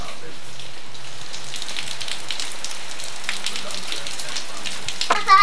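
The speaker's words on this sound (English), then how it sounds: "it's raining" Steady rain falls outside, a close, even hiss of drops pattering on surfaces that continues without letup, with a brief faint voice and a clunk near the end.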